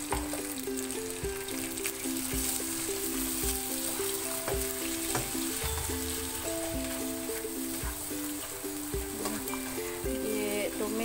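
Shrimp and fish cake stir-fried in a pan for kway teow goreng, a steady close sizzle with intermittent scraping of the spatula against the pan, a faint voice in the background.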